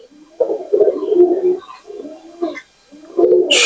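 A rare Pakistani pigeon coos close by in three low, throaty, rolling phrases separated by short pauses.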